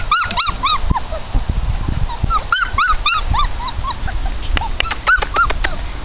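Five-week-old F3 Goldendoodle puppies whimper, yip and give small high barks, several overlapping cries that come close and continuously in a busy litter chorus.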